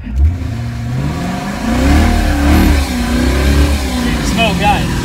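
An old car with a wooden gear stick and a roughly 400 brake horsepower engine revs loudly and close, its engine note rising and falling steadily under excited talk.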